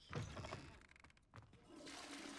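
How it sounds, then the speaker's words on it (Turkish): A toilet flushes in the video game Hogwarts Legacy: a short, rushing water whoosh with gurgling swirls that settles into a steady refill hiss, with faint talk underneath. "Sifonu çekebiliyoruz."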